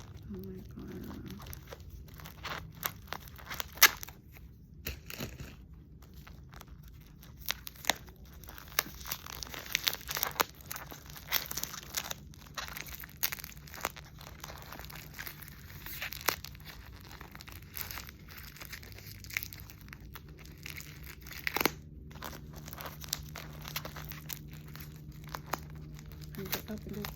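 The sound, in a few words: tearing open a package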